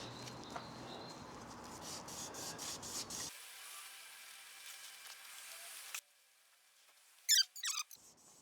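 Hand polishing of a Renault R16 engine part, a steady close scratchy rubbing that runs for about three seconds, then a softer continuous rubbing, ending with a few short sharp scrapes after a near-silent pause.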